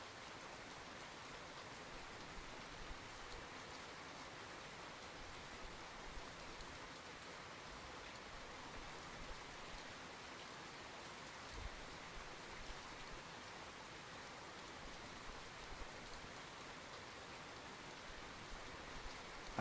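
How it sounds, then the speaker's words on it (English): Steady, even rain hiss from the video game Russian Fishing 4, falling on a lake scene as a constant wash of noise with no talk over it. "Make the rain stop."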